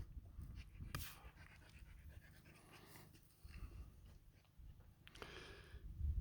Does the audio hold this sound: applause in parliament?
no